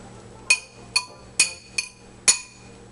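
Five sharp metallic clinks ring out at uneven intervals as ingredients are mixed together in a bowl, each tap bright and ringing briefly over a quiet background.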